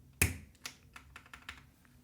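A keycap being pressed onto a GMMK 2 Compact mechanical keyboard: one sharp, close plastic click, then several lighter taps and clicks.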